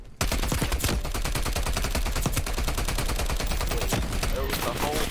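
A Type 821 SMG in Black Ops Cold War fires in fast sustained bursts, loud and close, almost continuous for several seconds.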